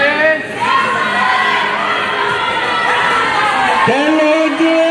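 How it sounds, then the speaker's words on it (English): A crowd at an indoor bouldering competition final cheers loudly and continuously for the climbers, with shouts and whoops rising over the roar and voices calling out. "Big cheers from the crowd for both Ziyin and Lauren"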